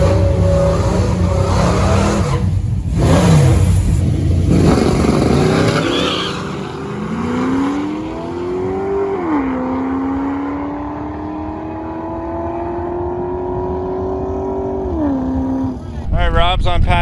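A Foxbody drag car makes a loud run down the strip, engine rising in pitch through several gear changes as it pulls away, with a burst of revving at the start and a sharp roar again at the end.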